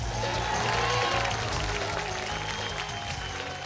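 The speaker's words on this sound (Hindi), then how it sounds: "जोरदार तालियां" A television studio audience on the show Big Memsaab breaks into dense, loud, sustained applause that fills the whole stretch without pause.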